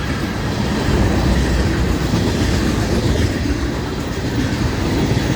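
An intermodal freight train rolls past at Fort Pierce with a loud, steady roar of wheels and rumbling cars, a continuous dense rush of rail noise close by, with no voices.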